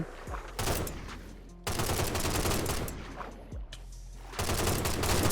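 Rapid video game gunfire in Minecraft as an admin shoots a player, dense loud bursts of shots in several volleys with short gaps between them.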